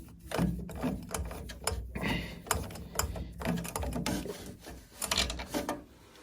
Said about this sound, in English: I'm just going to undo the plate heat exchanger